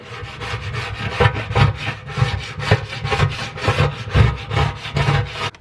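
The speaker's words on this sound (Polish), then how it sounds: "będziemy teraz skrajpować" A scraper works across the inside of a home oven sprayed with oven cleaner. It gives close, rhythmic rasping strokes, loud and repeated about twice a second, with no talking.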